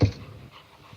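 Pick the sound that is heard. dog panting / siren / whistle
dog panting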